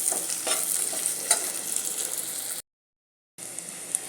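Onions sauté in a pan with a steady hiss and occasional scraping stirs. Partway through the sound cuts out briefly and then the sizzle resumes.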